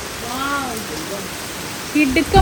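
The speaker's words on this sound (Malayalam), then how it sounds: "മഴയാണ്" Steady hiss of rain fills the background while a voice speaks briefly, followed by a short louder burst near the end.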